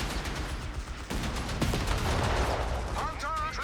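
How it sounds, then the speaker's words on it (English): Gunfire striking a Panther tank in a Company of Heroes-style match on Twin Beaches, dense rattling shots and impacts layered under loud battle noise, with a short whistling tone near the end. "Panther taking fire"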